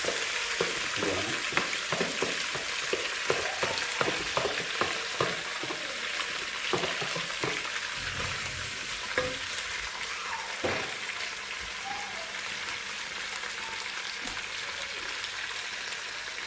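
Onions and shallots fry in hot oil in a pan for a Kerala tapioca biryani, giving a steady close sizzle with repeated scraping stirs throughout.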